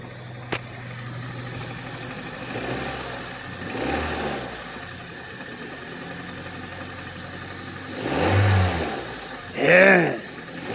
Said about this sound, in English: I'm going to turn the revs up a bit and just listen to it.